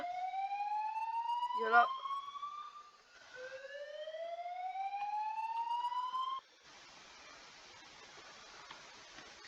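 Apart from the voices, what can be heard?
alarm going off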